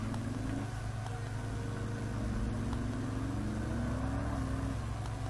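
Steady engine drone of a car in the video game Test Drive Unlimited, its pitch climbing in short rising sweeps as the wheels spin, constant and close.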